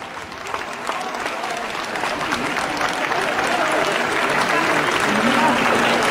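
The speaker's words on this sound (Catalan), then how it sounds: "Un fort aplaudiment per aquests dos establiments" A crowd applauds steadily at a fashion show, the clapping dense and sustained, swelling slightly louder toward the end amid some crowd noise.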